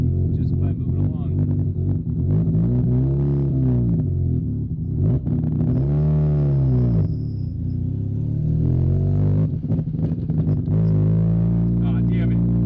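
A rotary-engined Corvette rolls along at low speed, its engine a steady, buzzy drone with rising and falling pitch sweeps, close and continuous throughout, with faint talk mixed in.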